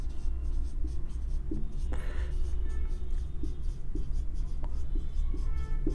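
Someone writes on a board during a classroom lecture, making close, moderately loud scratchy strokes and regular light taps over a steady low room hum.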